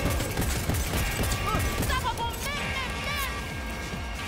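Pistol gunfire in Cyberpunk 2077, several sharp shots in quick succession over dense game combat noise, with a voice partly audible underneath.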